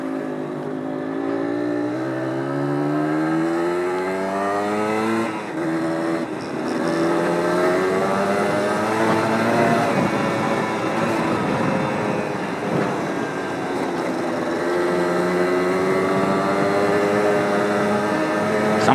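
A Yamaha DT 125 two-stroke motorcycle climbs a hill, its engine revving loud and close in a long, rising, buzzing strain with shifting pitch, and no talk over it.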